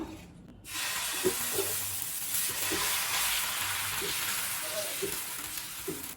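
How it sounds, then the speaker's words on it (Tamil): Egg dosa batter hits a hot pan and breaks into a steady, loud hiss of sizzling that holds throughout, close by, with faint scraping underneath. "நம்ம தோசை ஊற்றிக்கலாம்."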